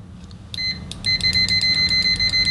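A cheap LOMVUM DM616 multimeter's continuity beeper sounds a few short high beeps, then settles into a steady, loud, piercing tone that pulses slightly, close to the microphone with no talking.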